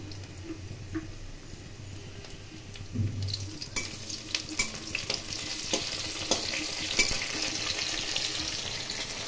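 Chopped tomatoes drop into a frying pan of boiled soybeans, setting off a steady sizzle with scraping and stirring clatter that grows busier partway through, close and moderately loud, with no talking.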